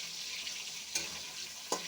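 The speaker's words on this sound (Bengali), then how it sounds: "চিংড়ি মাছটা ভাজতে এমনি বেশি সময় লাগে না" Shrimp coated in turmeric, salt and chili powder frying in hot oil, a steady close sizzle with two brief louder crackles, no voices.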